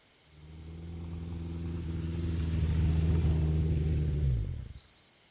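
A motorcycle passes in the video game Kentucky Route Zero, a steady engine rumble that swells to a loud peak and then cuts off sharply after about four seconds, with no talk.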